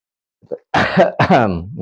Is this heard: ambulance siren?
no